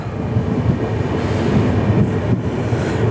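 The Capital Express passenger train pulls into Goalpara Town station, a steady low rumble of rolling coaches with faint rail clatter, heard from on board with no voices.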